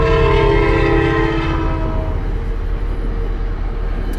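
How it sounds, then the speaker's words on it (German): A train sounds its horn at a road crossing in the USA, a loud, sustained chord that fades away over a few seconds, leaving the heavy rumble and rhythmic clatter of rail cars passing close by. "Die Züge, weil hier so viel passiert ist, müssen hupen, wenn die hier Straßen überqueren."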